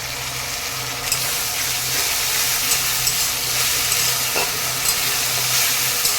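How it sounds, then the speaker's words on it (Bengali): Onion fries in oil with a ginger, garlic and green chili paste for a goat meat curry, a loud continuous close sizzle with occasional stirring scrapes and no talk. "পেঁয়াজটা অনেকটাই ভাজা হয়ে গেছে এখন দিয়ে দেবো আদা রসুন আর কাঁচা লঙ্কা একসঙ্গে বাটা"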